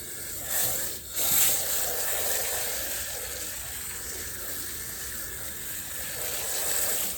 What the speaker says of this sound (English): now I'm going to water this in